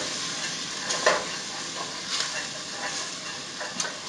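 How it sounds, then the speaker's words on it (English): Peanut butter stirred into onions in a hot pan gives a steady, moderate sizzle and hiss, with occasional soft scraping strokes of the spoon rising briefly above the frying. "you just start stirring this around in the onions."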